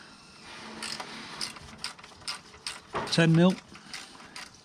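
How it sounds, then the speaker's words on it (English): A ratchet clicks in short repeated bursts while tightening the slip-on exhaust clamp on a Triumph Tiger 850 Sport fitted with a Scorpion Serket ceramic slip-on, close by, with a voice speaking over it. "Tightening the clamp."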